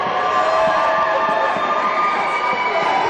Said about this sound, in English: As you can hear, the crowd really pleased about that.